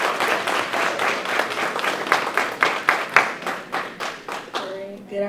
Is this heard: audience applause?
yes